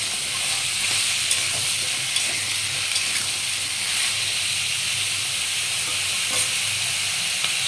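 Potatoes and onions, salted, fry in a pan for Bengali aloo posto with a steady, even sizzle and hiss that carries on alone throughout, with no talking.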